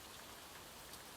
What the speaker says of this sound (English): listening to the gentle patter of rain